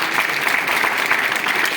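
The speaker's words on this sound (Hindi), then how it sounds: "एक तालियां बजा सकते हैं भाई आप सभी के लिए।" An audience claps steadily at a Hindi-language gathering, a dense, even patter of many hands for a short stretch with no voices over it.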